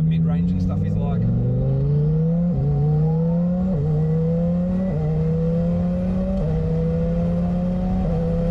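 A modified Lamborghini Huracan Performante revs hard through repeated upshifts at a street car event. The loud, droning engine note climbs steadily and drops sharply at each gear change, with faint background chatter at the start.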